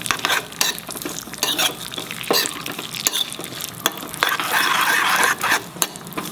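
Payasam being stirred in a pan after the flame is switched off, with repeated scraping and clinking strokes of a spoon against metal over a soft background sizzle, close and rhythmic.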